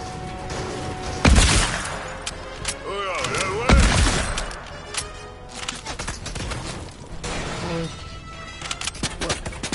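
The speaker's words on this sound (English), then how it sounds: "Shoot, how are people shooting at me?" Gunfire from enemies in Fortnite cracks in two loud, sharp bursts, then gives way to scattered shots, crashes and game effects, with a voice talking over parts of it.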